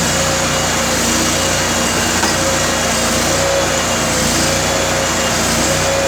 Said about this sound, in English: Got his welder fired up.